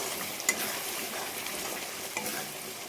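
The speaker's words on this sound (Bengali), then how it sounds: "সব মশলাগুলো দিয়ে দিয়েছি, এবার একটু কষিয়ে নেব।" Ground spices, including a mixed cumin and coriander powder, sizzle steadily in a hot pan on a home stove, with a couple of scraping stirs of a spatula standing out over the continuous frying hiss.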